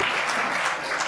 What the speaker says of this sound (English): Now I deserve an applause just for getting that out